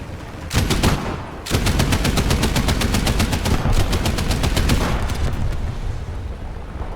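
Self-propelled anti-aircraft gun in War Thunder firing long rapid automatic bursts, loud and close, with a short pause after an opening burst before a sustained stream of shots that tapers off.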